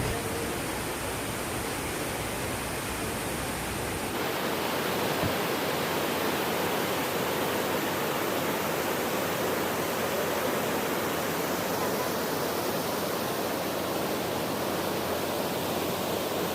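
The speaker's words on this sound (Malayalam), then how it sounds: "ഞാനിപ്പോ നിൽക്കുന്നതേ ചാർപ്പ വെള്ളച്ചാട്ടത്തിന്റെ അടുത്താണ്" The Charpa waterfall's constant, dense roar fills the whole span, broad and unbroken, with a slight shift in tone partway through and no voices.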